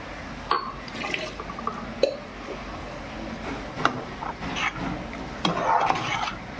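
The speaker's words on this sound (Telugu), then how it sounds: "గ్లాస్ వాటర్ వేసుకుంటున్నాను" A glass of water poured into chicken curry, bursts of splashing and bubbling liquid with a few sharp clinks and sloshes, close and moderately loud, no voices.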